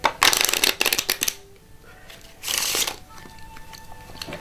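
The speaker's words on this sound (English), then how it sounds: "Now let's give these cards a shuffle." A deck of playing cards is shuffled by hand, making two bursts of crisp riffling and flapping separated by a pause, close and fairly quiet.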